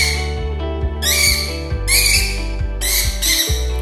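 Lovebirds, both Barong and non-clap types, give shrill high squawking calls in three loud bursts over a steady low droning background with regular pulses, close and clear.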